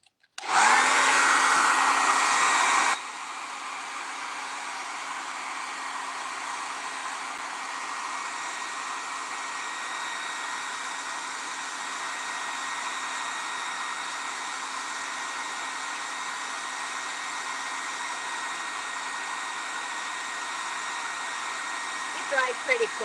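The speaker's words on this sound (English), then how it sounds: "and I'm going to blow it dry." A hair dryer blows freshly painted cachepot finish dry, opening with a louder burst before settling into a steady, close, continuous whooshing roar that runs alone for most of the stretch.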